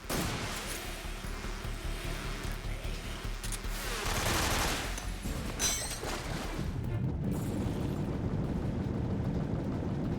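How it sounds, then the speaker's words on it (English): Enemy gunfire in Metal Gear Solid 3, loud sustained bursts of automatic fire that fill the scene and continue without a break, mixed with crackling impacts and a brief shattering sound. "He's firing at the wrong location"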